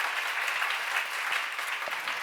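Congregation at a church seminar on the Gospel of John claps together in a dense, steady round of applause that holds evenly for a couple of seconds, close and fairly loud, with no voices over it.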